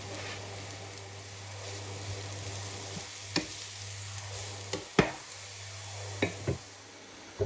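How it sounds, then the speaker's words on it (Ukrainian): Carrots and onion sizzle steadily in a hot pan for Ukrainian borsch, with a low hum underneath and occasional sharp knocks of a utensil stirring against the pan. "Коли цибулька злегка підсмажилась, додаємо до неї моркву і також трішки обсмажуємо"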